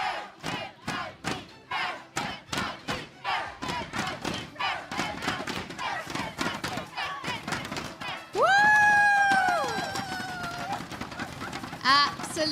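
Esports fans at the MPL Singapore Season 8 grand finals chant rhythmically for team NIP Flash, loud repeated crowd shouts pulsing steadily, then a sustained roar with a voice over the crowd near the end.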